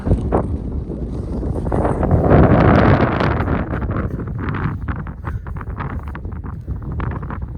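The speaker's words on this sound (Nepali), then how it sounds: "हावा खतरा चलिरहेको" Strong wind roars steadily across the microphone on a group ride at Sailung, Dolakha, a loud continuous rush that swells in the middle and keeps buffeting throughout, with no one speaking.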